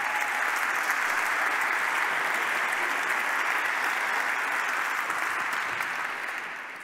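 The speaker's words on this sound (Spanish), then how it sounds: "Un aplauso para Seidor." An audience applauds an award at a closing ceremony of a business forum, steady dense clapping filling the room for several seconds before starting to thin at the end.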